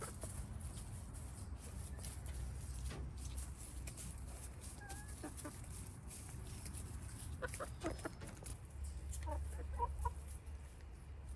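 Chickens clucking softly in a backyard, scattered short clucks and chirps at moderate distance over a quiet background hum.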